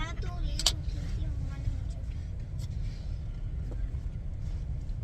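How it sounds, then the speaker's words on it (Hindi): Steady low rumble of a car in motion heard from inside the cabin, continuous and even throughout, with faint clinks and small movements over the drone. "गाड़ी चल रही है"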